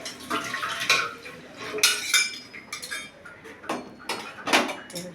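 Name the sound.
cooking oil being added to a pan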